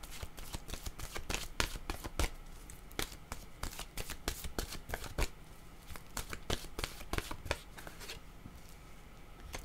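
Oracle cards being shuffled by hand, a dense run of quick papery riffles and flicks, close and fairly steady throughout with no talking.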